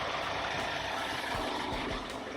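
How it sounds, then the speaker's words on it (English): Heavy lorries rumble loudly past on the Paraguay border bridge, a dense, continuous engine roar with deep low-end throb and no clear breaks. "It's very loud because of the lorries, so you can see all the trucks."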